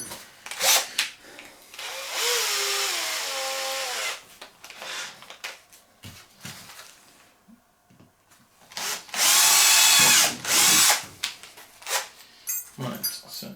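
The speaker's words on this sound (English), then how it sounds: "So we'll get that drilled, and then we'll bolt it all together." Power drill boring a hole through a cup holder part for a Mk1 Audi TT, in two loud whining bursts separated by quieter handling noises and pauses.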